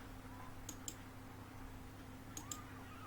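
Two pairs of faint mouse clicks in quick succession, about two seconds apart, over a steady low hum from a computer setup.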